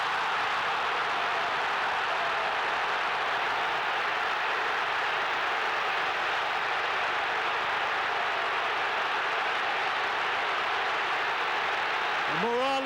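A dense, steady roar from a stadium crowd of about 65,000 Uruguayan fans cheering a goal at a 2001 World Cup qualifying playoff against Australia, loud and continuous throughout.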